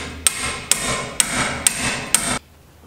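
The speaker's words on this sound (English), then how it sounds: "so I'm gonna have to get my impact screwdriver." An impact screwdriver hit by a hammer loosens rusty screws on a 2012 Hyundai Sonata brake job, giving five sharp, evenly spaced metallic strikes close by, each with a brief ring, followed by quiet.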